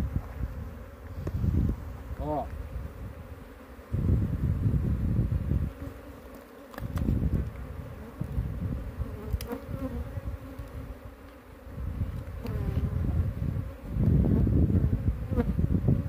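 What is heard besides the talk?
honeybees buzzing around a hive during capture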